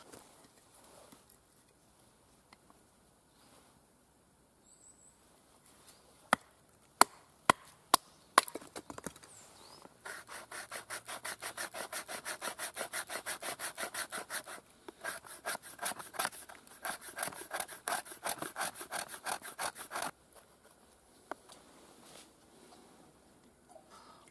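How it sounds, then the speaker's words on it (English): A knife scrapes the back of a split piece of wood to make fine tinder shavings, a few sharp knocks followed by a long run of quick, rhythmic scraping strokes, close and fairly quiet. "use the tribute knife to get some scrapings off the back"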